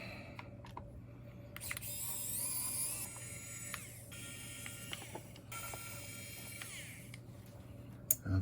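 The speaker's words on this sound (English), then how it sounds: "going to get my screwdriver with the Phillips head, and then I'm just going to remove these" Small Phillips screws being backed out of a Steam Deck's rear shell, a quiet, close series of faint clicks and light ratcheting scrapes over a steady low electrical hum.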